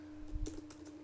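Several light key clicks on a computer keyboard, spaced irregularly and close up, with a steady low hum underneath and no talking.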